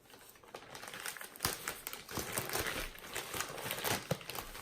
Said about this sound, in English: So I'm going to rip that bag open.